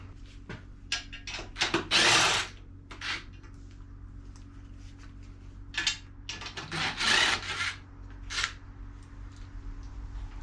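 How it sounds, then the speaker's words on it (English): Screwdriver prying an old plug out of the frame of a Yamaha YFZ 450R sport quad, with intermittent close scraping and rasping bursts and small clicks separated by quiet pauses. "Just gonna get yourself a screwdriver and pry this old one out."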